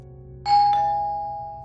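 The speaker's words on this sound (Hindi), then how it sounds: "लगातार बजती घंटी की आवाज" A single doorbell chime rings out clearly, a bright ding that sustains and slowly fades over a low background hum.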